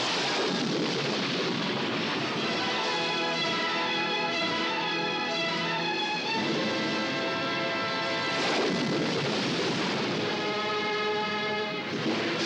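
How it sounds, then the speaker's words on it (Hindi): A cataclysmic explosion effect in a Krishna story plays as a dense, continuous roar with deep rumbling, thunder-like texture and a sustained tonal wail across the whole stretch, loud and unbroken. "ठीक 7वें दिन धरती पर प्रलय का विस्फोट हुआ।"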